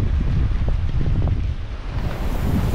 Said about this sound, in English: Really, really windy out here, so this is some tough conditions for it to be in.